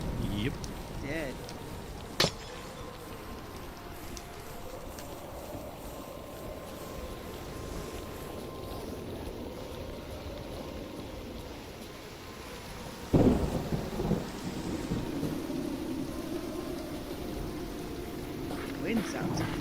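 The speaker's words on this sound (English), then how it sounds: "Wind sounds creepy. It's pretty strong." Strong stormy wind in Minecraft with the TerraFirmaCraft Hardrock modpack keeps up a constant low howl, broken by a sharp crack early on and a deep, louder rumbling surge later. Someone talks quietly over it.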